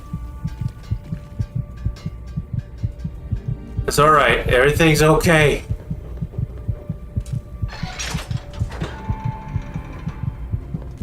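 A low, heavy heartbeat effect from the game Fallout 3 thumps in a steady, rapid rhythm with a droning hum under it, while someone talks briefly over the beat partway through.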